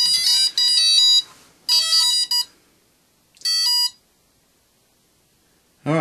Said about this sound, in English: you'll get another confirmation beep